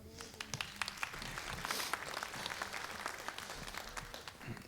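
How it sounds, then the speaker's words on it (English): A ship's galley crew gets a round of applause from a group, steady dense clapping at moderate distance lasting throughout without voices on top. "A good round of applause."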